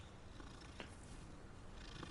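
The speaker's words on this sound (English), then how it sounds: "Always stop to pet the cat." A cat purrs steadily as it is petted in the video game Hogwarts Legacy, a soft continuous rumble with a faint background hiss and no voices.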